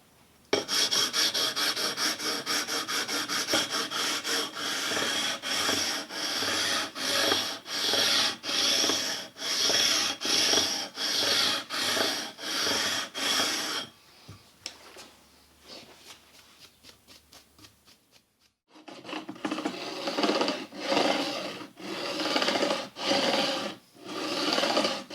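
Steel file rasping along the frets of a 1960 Les Paul Junior Special style guitar, fast rhythmic back-and-forth strokes, close and loud, pausing briefly before resuming.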